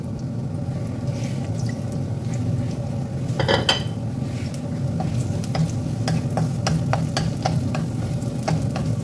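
Sliced onion frying in olive oil in a hot pan for pancit bihon, a continuous close sizzle with stirring, a metallic clank of a utensil against the pan, and scattered crackles and pops.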